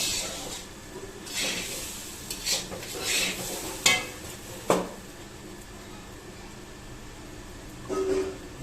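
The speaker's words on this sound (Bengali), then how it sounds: "ঘি দেওয়া হচ্ছে এক এক করে মশলাগুলো দেওয়া হলো আদা কাঁচা লঙ্কা কাজু কিশমিশ" Ghee and then ginger, green chilli, cashews and raisins going into a hot pan, with a soft sizzle under scattered clinks and scrapes of a utensil against the pan, fairly quiet with a few sharper knocks.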